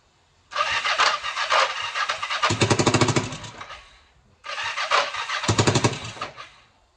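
A carbureted motorcycle engine revs in two separate bursts, the first long and climbing to a harsher, higher rev, the second shorter, with quiet idle gaps between them.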